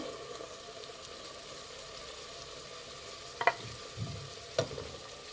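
Ground paste for peas rice bath frying in a pan, a soft, fairly quiet sizzle with a couple of brief spatula knocks near the end.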